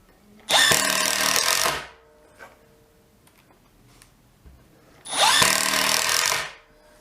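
A Milwaukee M12 CID impact driver runs in two loud bursts of about a second and a half each, separated by a quiet pause with faint clicks and taps.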